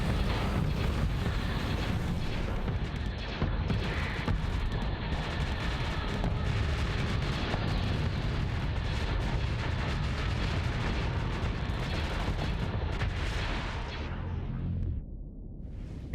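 Ship weapons firing in Starsector space combat, with mods, a dense, loud, unbroken barrage of booming shots and blasts layered over a heavy rumble, thinning slightly toward the end.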